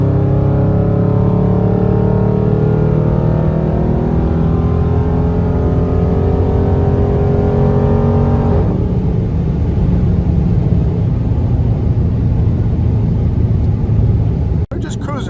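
A Dodge Charger Scat Pack's engine drones loudly from inside the cabin, its pitch climbing steadily as the car accelerates, then dropping after a shift into a steady cruising roar.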